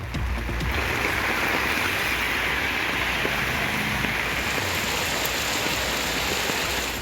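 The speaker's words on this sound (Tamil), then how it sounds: "மேற்கு தொடர்ச்சி மலையை ஒட்டிய பகுதிகளில் கனமழை பெய்தது" Heavy rain falls steadily along the Western Ghats foothills in Tamil Nadu, a dense, continuous wash of hiss and patter at an even loudness for the whole stretch, with no voices.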